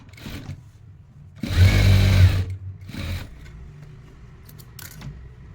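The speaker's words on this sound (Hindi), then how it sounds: "और स्टिच कर देंगे।" A sewing machine stitches a doubled T-shirt sleeve border in one loud, close burst of rapid whirring, followed by a shorter, softer run and quiet handling noises.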